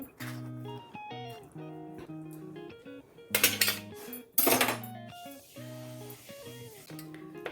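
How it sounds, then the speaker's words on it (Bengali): Spoon work on mashed avocado in a bowl: two loud bursts of scraping and clattering stand out against steady background music, with lighter taps in between. "এরপর এটাকে চামচ দিয়ে ভালো করে ম্যাশ করে নিতে হবে"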